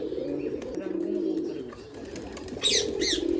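Desi pigeons in a home loft coo in a steady, low, throaty drone, with brief higher chirps and wing flutters near the end.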